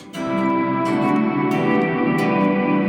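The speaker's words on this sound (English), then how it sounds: "you only hear the reverb sound" A sustained, washy electric guitar sound with reverb set 100% wet so only the reverb is heard, smeared notes blending into a continuous shimmering wash at steady volume.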